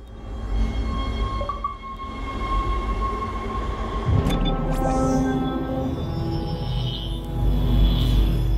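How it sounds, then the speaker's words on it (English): Tram ride in the Dead Space video game: a steady rumbling rail-car drone with rolling wheel noise and occasional metallic clanks and squeals, loud and continuous with no talking. "guess I'm going to take the tram to the next place"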